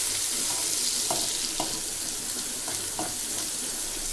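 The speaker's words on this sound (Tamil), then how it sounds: "இப்போ நம்ம இதை நல்லா வதக்கி விட்டுக்கலாம்." Chopped onion and curry leaves sauté in a pan with a dense, steady sizzle and a few soft scrapes of stirring, close and continuous over a few seconds.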